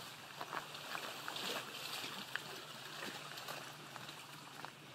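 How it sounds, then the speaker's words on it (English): Small lake waves lapping the shore of Lake Geneva along a shore path near Fontana: a steady, soft, trickling wash with gentle splashes, close by and outdoors. "just listen to the waves"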